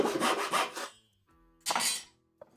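Hand saw cutting wood in close, rasping strokes: a quick run of back-and-forth strokes, a pause, then another longer stroke and a small knock.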